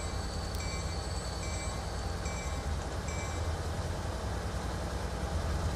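Trains roll along rails in the rail simulation game Transport Fever 2, a steady low rumble with faint, repeated high tones that come and go.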